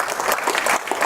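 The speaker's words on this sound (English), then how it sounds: "So give an applause for Adrian." A brief burst of conference audience applause, loud and dense clapping from many hands.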